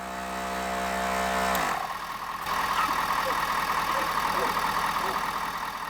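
A Gobege 12v air compressor inflates a tire with a loud, rapid, rhythmic chugging that keeps a steady pace after its motor pitch drops at startup.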